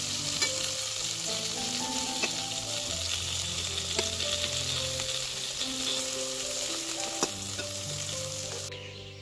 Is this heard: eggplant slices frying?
yes